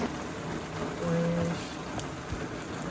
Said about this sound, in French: Regarde la pluie.